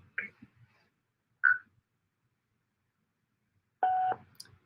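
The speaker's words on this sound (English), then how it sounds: "Please leave your message after the beep." A single steady electronic voicemail beep rings out near the end, after a couple of brief faint sounds and a short pause of near-silence.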